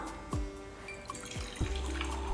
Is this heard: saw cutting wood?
no